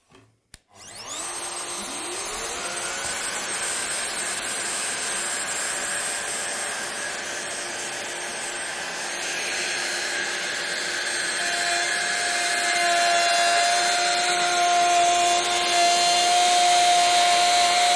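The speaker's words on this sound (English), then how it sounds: "We can now start routing. I'll just connect the 27mm suction hose and we can get started." A Festool OF 1010 router cutting a groove with a 27mm suction hose attached, a steady loud whine that spins up after a brief start and holds, rising slightly in pitch and intensity toward the end.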